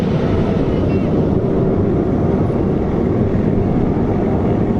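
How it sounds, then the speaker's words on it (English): A steady, loud roar of fighter jets passing overhead, continuous and broad with a low rumbling drone throughout. "The fighter jets have been flying around a lot today."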